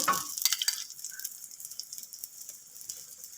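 Paratha frying in desi ghee on a pan over low heat, a soft crackling sizzle strongest at the start, then settling into faint, steady spitting and patter close by.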